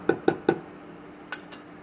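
Jackfruit seed curry spooned into a small bowl, giving three quick metallic clinks of a utensil against the dish, then two softer taps after a pause, close and clear with no talk.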